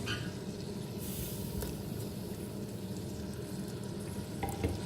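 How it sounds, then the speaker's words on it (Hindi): Eight small pieces of goat trotters (paye) searing in a pot, a thick constant frying hiss with occasional spoon scrapes and knocks, near and even in level, no one talking. "इस स्टेज पे मैं इसको पाँच से 10 मिनट भूनूंगी"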